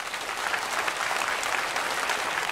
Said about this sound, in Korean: 새 가족을 박수로 환영하겠습니다